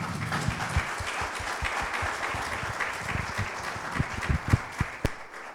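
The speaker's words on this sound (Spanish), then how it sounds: "Dale un fuerte aplauso, por favor." A church congregation applauds at a worship gathering, clapping soft and fairly even at first, then individual claps growing sharper and more distinct toward the end.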